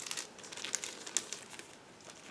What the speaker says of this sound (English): Now I need a second to open the plastic bag with PE thread because it was sealed.